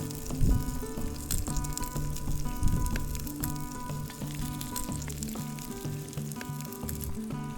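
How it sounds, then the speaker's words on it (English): Square sausages fry on an outdoor camp stove on a remote coastline, a steady close crackling sizzle with soft pops throughout, joined by faint tonal background sounds. "these square sausages are starting to look pretty good"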